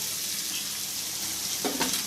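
Brinjal pieces sizzling in a pan with softened onions and green chillies, a soft steady fry with a brief stirring scrape near the end, no talk.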